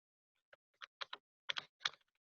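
A computer keyboard with a briefly sticking key clatters through about seven quick, close keystrokes in an uneven rhythm, alone in near silence.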